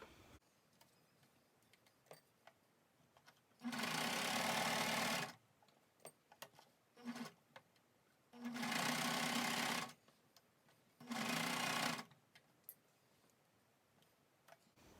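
A sewing machine stitches sweatpants fabric in three separate bursts, each a steady, fast whirring hum lasting a second or two, with quiet pauses between them.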